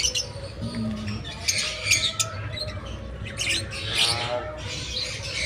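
Lovebirds, some of them costly mutations, squawk and chirp in a hobby farm loft, with shrill overlapping calls in short bursts over a low rumbling background and faint murmuring voices.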